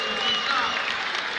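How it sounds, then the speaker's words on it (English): An indoor track crowd at the MIAA All-State meet at the Reggie Lewis Center roars steadily in support of runner Lucy Jenks, a dense, sustained wash of cheering and clapping with an announcer talking over it. "Lucy Jenks, as the crowd's giving her all the support they can."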